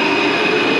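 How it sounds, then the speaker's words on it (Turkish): Santiago metro train in motion, heard from inside the carriage as a loud, steady rumble with a sustained whine and rail noise, no voices. "Okuro bölgesinden Florida bölgesine gidiyoruz şimdi metroyla."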